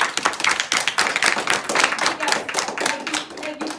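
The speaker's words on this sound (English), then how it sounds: "let's give a round of applause to Rania" Round of applause for a woman named Rania at a visiting group's gathering, with dense, steady hand clapping from a nearby crowd throughout, fairly loud and uninterrupted.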